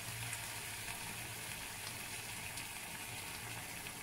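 Water from cassava goes into a hot cooking pan for a cassava and sausage breakfast, giving a faint, steady sizzling hiss with no voices.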